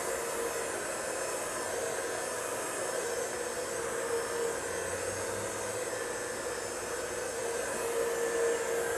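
A hair dryer blows steadily on a woman's fringe during a smoothing salon styling, a continuous close airy whoosh with a faint motor hum that holds even throughout.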